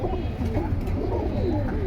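Pigeons coo softly and continuously at a pigeon sale in Keraniganj, Bangladesh, several overlapping throaty warbles close by against a low background rumble.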